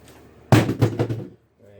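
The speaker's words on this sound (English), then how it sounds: "Right, that was a drill falling on the floor," A drill falls onto a hard floor with a loud clatter, a few quick rattling bounces following over about a second, then near silence.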